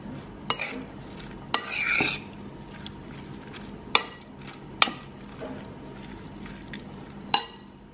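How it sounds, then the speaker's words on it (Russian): Grated cucumbers being stirred into yogurt in a bowl, soft wet scraping and mixing with a few sharp clinks of a utensil against the dish, fairly close and quiet, with no talking. "Далее добавим 2 или 3 на крупной терке натертых огурца йогурт. Все хорошенько перемешаем."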